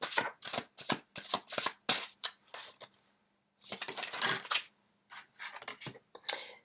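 Tarot cards riffled and drawn in a string of quick, crisp papery bursts, then a short pause and a longer burst of shuffling followed by a few sharp flicks, close and fairly loud with no voice.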